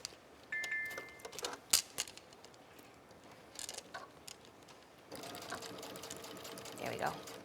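A sewing machine with a size 14 denim needle stitching vinyl: short bursts of rapid mechanical whirring, then steadier running, with brief clicks between and a voice talking over parts of it.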